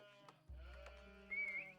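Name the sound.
sheep bleating in a real-time strategy video game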